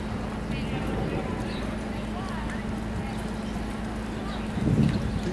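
A horse lopes in circles under a rider, its soft rhythmic hoofbeats running steadily beneath a constant low hum and background noise, with a louder thud near the end.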